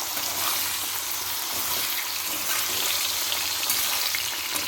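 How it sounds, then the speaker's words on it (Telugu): Steady, dense sizzling of bitter gourd frying in hot oil under steam, continuous and close, with no talking. "కిందన్న ఆయిల్కి పైన వాటర్లోంచి వచ్చే ఆవిరికి మంచిగా వేగుతుందన్నమాట ఆ కాకరకాయ"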